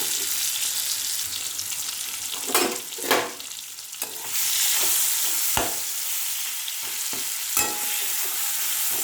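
Pieces of half-ripe mango sizzle steadily in a pan, with the loud frying broken by the scrape and clink of stirring.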